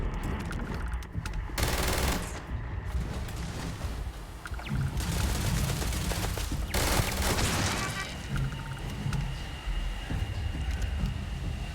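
Turrets in the video game Starfield fire in loud, rapid bursts of gunfire with short pauses between volleys, set against dense game noise, with no talking.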